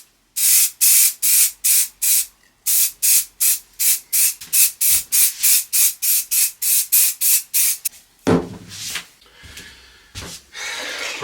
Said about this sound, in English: I'm just going to give these a coat of acrylic lacquer now to keep that shine